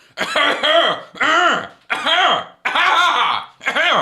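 Several loud, close throat-clearing rasps in a row, each a harsh burst followed by a short pause, with no other sound between them.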